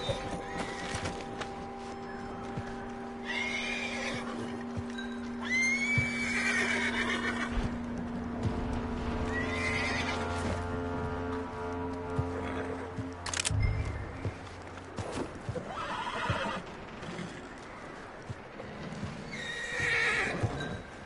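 A horse in Red Dead Redemption 2 whinnies and neighs several times over game music, with hoofbeats clip-clopping now and then in the mix.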